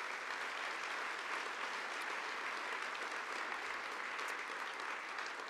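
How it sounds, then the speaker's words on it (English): Large room of guests at a NASA space awards gala fills the air with sustained, uniform applause, a thick wash of clapping that holds steady from start to finish. "give him one of many rounds of applause we'll give him tonight for his accomplishments"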